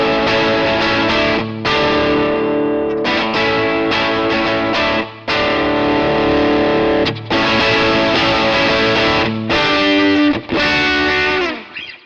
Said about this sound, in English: So say that's my overdrive sound.